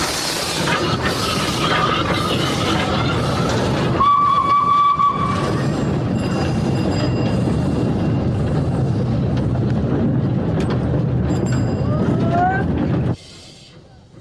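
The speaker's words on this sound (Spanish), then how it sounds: "Son locomotoras venerables, las más antiguas a vapor del mundo," Loud, sustained whistle of an 1873 Sharp Stephenson Glasgow steam locomotive still hauling sugar cane, with roaring steam hiss throughout and a brief brighter tone partway, cutting off abruptly near the end.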